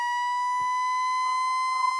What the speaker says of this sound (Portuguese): Quer tocar sirene para a resposta do texto?